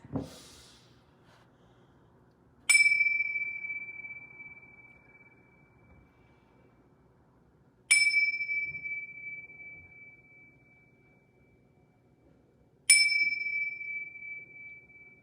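Three clear bell strikes ring out several seconds apart, each a bright metallic tone that slowly decays in a quiet room with soft breathing.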